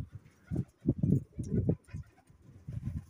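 Soft, low pigeon coos repeat in short throaty bursts, close by at a pigeon sale fair, with brief pauses between calls.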